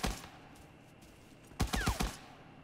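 Gunfire in the shooter video game Arena Breakout: two quick bursts of loud, close shots, one at the start and a heavier rapid cluster near the end, separated by quiet game ambience and no speech.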